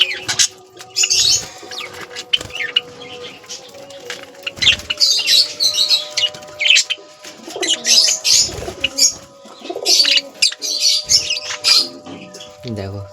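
Pigeons and pet birds, including lovebirds, fill an aviary with repeated chirps, squawks and low cooing at close range, calls overlapping in irregular bursts as someone speaks now and then between them.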